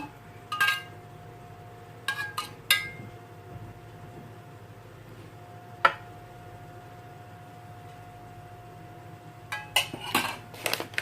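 A metal spoon clinks against small quiche molds while scooping in the quiche filling: scattered sharp taps and scrapes, a few clustered together and others isolated, close by over a quiet steady room hum.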